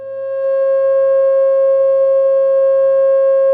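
Steady pure electronic tone at 540 Hz assigned to a pentagon shape, holding level and unbroken from start to finish with faint overtones and no voices.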